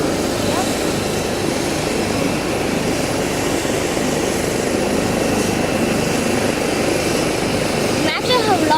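A helicopter takes off in Greenfield, Massachusetts, its engine and rotor making a loud, steady, pulsing roar that fills the whole stretch, while people talk faintly underneath.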